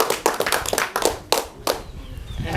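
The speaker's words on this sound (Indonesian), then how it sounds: "berikan aplaus untuk kelompok 4 ya" Hands clap in scattered, uneven bursts for a group of students in a classroom, close and moderately loud, a short ragged round of applause rather than a large crowd.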